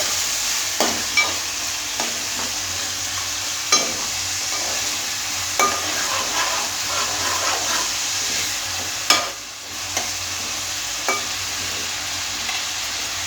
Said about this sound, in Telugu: ఇక్కడ గుడ్లు ఉడుకుతున్నాయి.